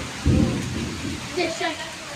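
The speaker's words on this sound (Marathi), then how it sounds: "कसला आवाज येतो? विजा पडतात." A low rumble of thunder rolls briefly over steady rain, with a second softer rumble shortly after.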